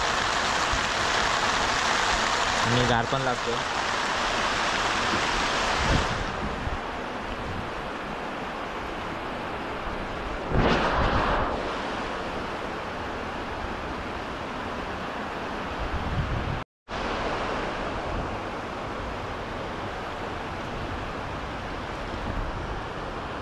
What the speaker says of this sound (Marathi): मित्रांनो बघा पाऊस लागत सुरुवात झाली आणि पावसाचे थेंब पण बघा मोठे मोठे आहेत